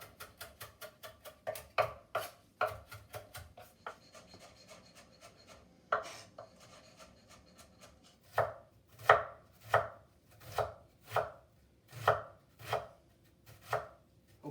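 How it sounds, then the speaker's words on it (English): A kitchen knife chops garlic, onions and parsley on a board in steady repeated strikes, softer and quicker at first, then louder, evenly spaced knocks, close and clear with no talking. "I've minced the garlic, the onions, and the parsley."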